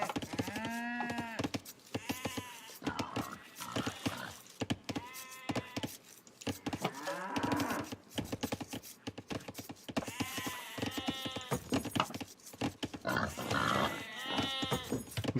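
Cows mooing and sheep bleating in Age of Empires II, repeated calls spread across the whole stretch and sometimes overlapping, loud and close. Some faint speech sits underneath.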